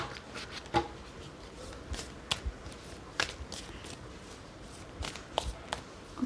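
Tarot cards handled and picked up during a reading: a few soft, sparse card flicks and papery shuffles, close and quiet, separated by near silence.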